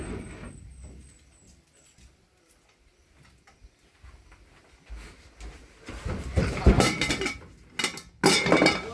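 A metal cooking pot clatters and clanks among dishes in a home kitchen. After a quiet stretch, several loud, close bursts of jangling metal follow in quick succession.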